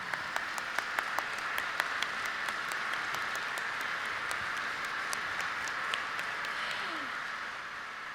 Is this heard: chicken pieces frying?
no